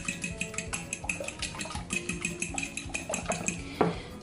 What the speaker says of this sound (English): So you want to break up that yellow yolk and whisk this mixture together.